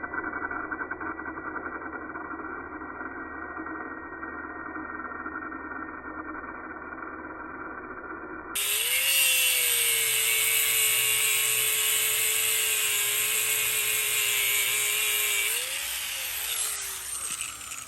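An angle cutting wheel cuts lowrider hydraulic springs: a low mechanical hum first, then the wheel suddenly spins up into a loud, bright, sustained whine with gritty cutting noise, dipping briefly before holding on.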